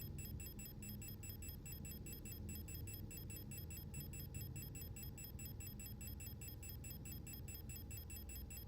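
A quiet, steady, rhythmic electronic beeping repeats evenly throughout a scene in the video game Signalis, over a low ambient hum.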